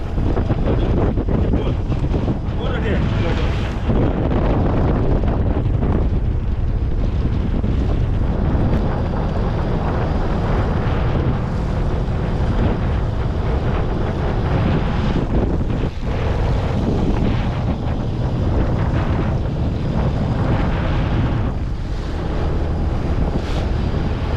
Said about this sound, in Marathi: आज वारा खूप होता